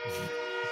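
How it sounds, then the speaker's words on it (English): A passing train gives a steady, loud horn-like tone with layered pitches, sustained close by through a short moment with no talk over it. "I hear a train coming."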